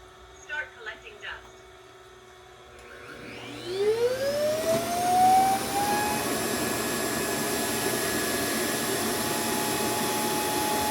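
Vyzzle E20 robot vacuum emptying itself into its base: after a few faint sounds, the suction motor spins up with a rising whine near three seconds, then settles into a loud, steady, close roar that lasts to the end.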